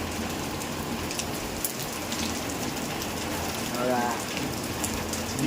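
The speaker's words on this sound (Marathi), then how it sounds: "आता बघा पाऊस आलेला आहे मस्त आता आपण भिजतोय पावसात" Rain falling in a village, a dense, steady patter of drops on surfaces close by, continuous throughout with no thunder.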